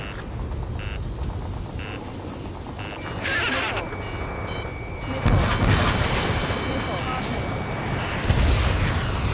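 Gunfire, missile impacts and explosions hitting aircraft in the Ace Combat 7 flight combat game, a steady dense roar of blasts and rumble with warning beeps and tones layered over it, with game radio chatter in the mix.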